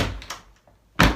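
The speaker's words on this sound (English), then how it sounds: "close that door." A door closing in a house during rodent proofing, with a few faint knocks followed by one sharp, close thunk as it shuts; no voices.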